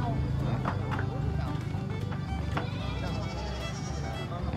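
Breeding goats bleat at a busy mountain livestock market, where dozens of animals are for sale. Several short, wavering bleats cut through the crowd noise and someone talking nearby.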